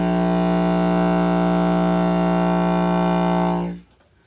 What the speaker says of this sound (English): So it's a rumbly low note.